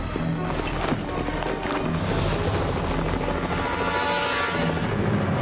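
Steady, loud rotor roar of a helicopter filling the whole stretch, a constant dense rumble with no pauses.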